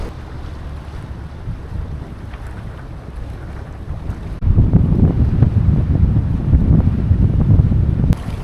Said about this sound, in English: we're now sailing again at 6 knots